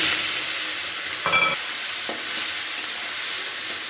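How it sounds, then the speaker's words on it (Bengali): Prawns frying in hot oil in a pan, a steady close sizzle throughout with a brief clatter of stirring partway through. "এবার আমি চিংড়ি মাছটাকেও ভেজে নিচ্ছি"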